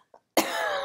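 A single sharp cough bursts out close and clear after a brief faint throat sound, breaking a silence with no talking.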